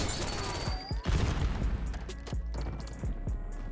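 Call of Duty Black Ops 6 gunfire from an Ames 85 rifle crackles in a steady stream of rapid shots with a few heavier thuds, fairly quiet and continuous across the moment.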